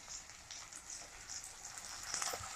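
Potatoes fry in oil in a home kitchen, cooked for a fish curry. A soft, steady sizzle hisses faintly and continuously, with scattered small crackles and no voices.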